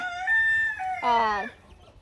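A rooster crows up close, a loud strained call, followed by a short drop to quiet.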